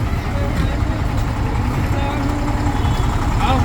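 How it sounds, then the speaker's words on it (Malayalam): A tour bus engine idles steadily after starting, a constant low rumble that runs unbroken from start to finish, close by and fairly loud. "നമ്മുടെ വണ്ടി ഇവിടെ സ്റ്റാർട്ട് ചെയ്തിട്ടുണ്ട്"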